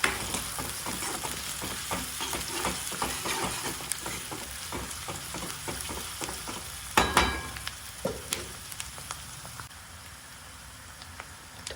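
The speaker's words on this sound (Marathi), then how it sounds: "कांदा छान परतवून घेऊयात." Finely chopped large onion sautéing in a pan for vegetable fried rice, a steady close sizzle with repeated scraping and stirring strokes, a sharper clatter near the middle, no talking.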